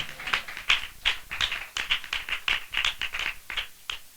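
A church congregation claps in a steady, rhythmic beat, a full chorus of many hands keeping time together.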